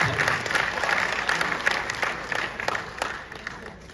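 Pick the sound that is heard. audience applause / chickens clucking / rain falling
audience applause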